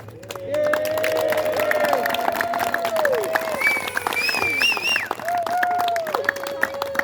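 Applause and cheering from a crowd at a class ceremony for a student, loud and continuous with whistles and voices mixed in, overlapping chatter throughout.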